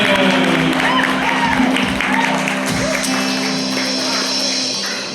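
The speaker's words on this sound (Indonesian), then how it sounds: "Kita beri tepuk tangan buat Azael." A congregation applauds at an Easter church service, with dense, steady clapping filling the whole stretch and fading slightly at the end while voices speak over it.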